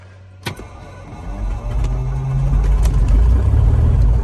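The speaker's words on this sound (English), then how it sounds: "So I'm going to go ahead and turn it over." A light aircraft's propeller engine being started, with a sharp starter clack, then a cranking whir that catches into a low, steady rumble which builds and settles loudly up close.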